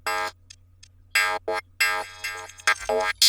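A psytrance synth lead plays short, bright stabs with delay echoes filling the gaps between them, dry with no reverb, over a low steady hum; the notes come in an uneven, staccato rhythm.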